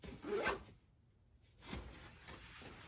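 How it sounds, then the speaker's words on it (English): A zipper being run closed along a packed one-bag travel backpack, a short close rasping pull followed after a pause by a softer, longer zipping stretch, with no talk. "everything else pouch there, toiletry kit, and the water bottle, and this zips just fine."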